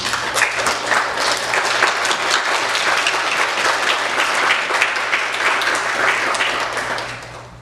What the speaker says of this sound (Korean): 저희 박수로 환영하겠습니다